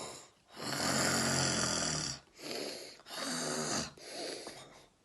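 A person imitates an old man snoring, giving three long rasping snores in a slow rhythm with short pauses between them, close and fairly soft.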